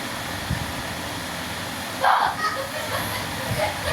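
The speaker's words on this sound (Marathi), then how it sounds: "तुम्हाला घरातून लहान मुलांचा आवाज येईल खेळण्याचा" Children playing inside a house, their voices faint and distant beneath a steady background hiss, with a brief louder burst partway through.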